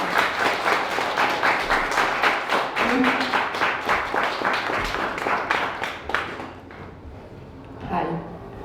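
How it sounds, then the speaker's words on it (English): An audience at an occult conference lecture claps warmly, a dense burst of applause that gradually thins and fades, followed by a voice beginning to speak. "give her a warm applause"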